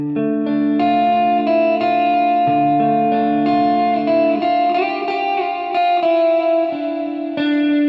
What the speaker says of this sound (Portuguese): Coloca o overdrive de baixo ganho.